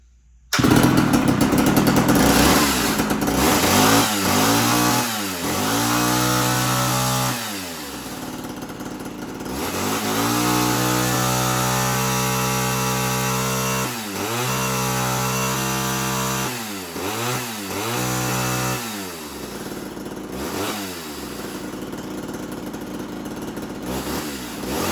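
A 1979 Homelite Super XL chainsaw runs loud and close, repeatedly revving up to a high whine and dropping back to a lower idle in several cycles.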